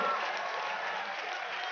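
A baseball crowd claps at a finals game in the International Baseball League, with steady, distant-sounding applause throughout that turns soft and diffuse as it continues.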